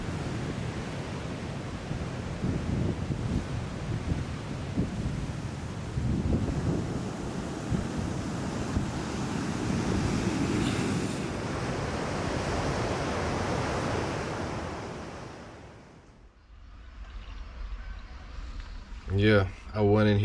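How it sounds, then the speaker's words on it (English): Strong wind buffets the microphone at a beach in Vietnam, a loud continuous roar of gusts blended with crashing surf, which then drops away and leaves a quieter background with brief movement noises near the end. "It is so fucking windy out here."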